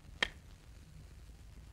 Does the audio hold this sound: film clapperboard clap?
yes